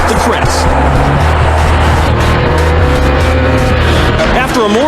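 Engines of a group of about eleven motorcycles drone steadily as they cruise together up a mountain highway, a loud, continuous layered roar heard close from one rider's bike.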